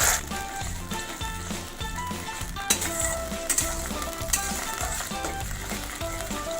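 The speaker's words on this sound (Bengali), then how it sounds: "রসুনটা হালকা লাল লাল হয়ে গেলে এর মধ্যে যে সসটা করে রেখেছিলাম তার হাফ সসটা দিয়ে" Half a prepared hot-wing sauce poured onto lightly browned garlic in a pan, a steady close sizzle and bubbling with a few sharp clinks of a utensil, under background music.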